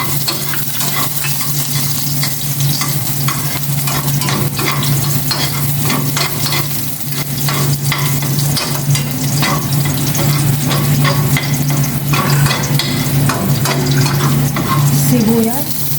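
Garlic sizzles steadily in hot oil in a pan while a utensil scrapes and stirs it in frequent clicks, a continuous close-up fry with no talking.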